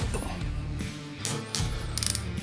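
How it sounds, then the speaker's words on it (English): Ratchet with an 8mm hex socket loosening the triple clamp bolts on a BMW R80 motorcycle, heard close up as rapid clicking pawl bursts between short pauses, the final burst the quickest and sharpest. "With an 8mm hex socket, and in my case fire, you can unscrew the two bolts in the triple clamp."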